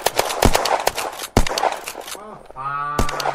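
Rapid bursts of gunfire in the video game Unturned, loud and close, with a few sharp single shots and a rising electronic tone near the end.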